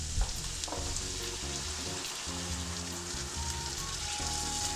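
A spicy sausage mixture sizzles and fries steadily in a pan for pasta with sausage and pumpkin sauce, a dense continuous crackle with occasional stirring, heard up close without any talk.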